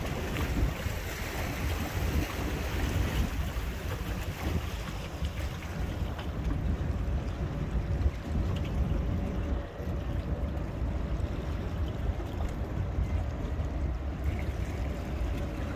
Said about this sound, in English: It's using the propeller back there. I hear it.